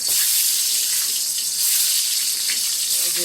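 Eggplant pieces fry in hot oil in a pan, a loud, dense, continuous hiss close by that holds steady throughout without any speech.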